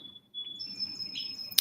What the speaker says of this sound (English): So I mentioned the birds, and actually I can see a couple coming back now.